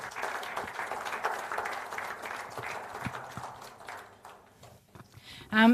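A crowd applauds steadily for several seconds for first-place winners at a photography awards night, the clapping fading toward the end before a brief louder sound cuts in.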